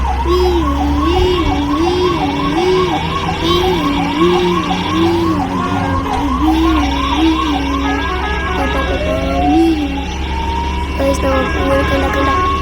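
A wailing ambulance siren sweeps up and down continuously and loudly, with a vehicle engine droning underneath; the wail shifts to a rising yelp near the end.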